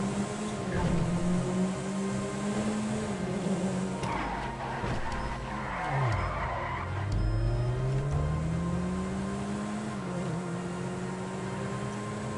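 A car in GTA revs and shifts through rising and falling engine tones, with a brief dip where it seems to stall before pulling away again, loud and continuous.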